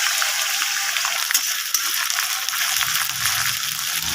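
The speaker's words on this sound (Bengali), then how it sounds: "এখানে এই যে চিংড়ি মাছটা আমি এখন ভেজে নেব তেলের মধ্যে" Prawns frying in hot oil, sprinkled with salt and turmeric, give off a steady, bright sizzle that holds evenly throughout with only faint stirring clicks beneath.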